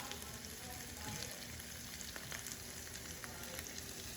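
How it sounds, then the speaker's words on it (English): Vegetables frying on a hot tawa, with potatoes going in among them, give a steady, dense sizzle with faint crackles throughout, close and fairly loud, with no talking. "And next I'm going to be adding the potatoes first."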